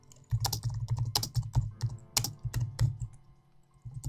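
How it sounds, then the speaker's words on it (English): Quick bursts of clicky computer keyboard typing sound close to the microphone, with steady keystrokes in rapid runs broken by brief pauses. "Just going to do some brief typing with Reggit."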